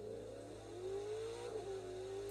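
A supercharged Shelby GT500 engine in the racing video game The Crew 2 hums at a steady whine that climbs and then settles, moderately loud without talk.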